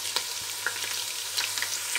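Sliced onions sizzling steadily in hot oil with cumin seeds in a pan, a dense continuous fry with faint crackles and occasional soft stirring, no voices.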